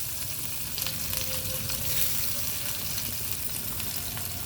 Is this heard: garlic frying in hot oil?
yes